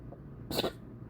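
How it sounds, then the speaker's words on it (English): A small burp comes through as one short, soft, throaty burst in a quiet room, lasting about a quarter second. "That was a burp."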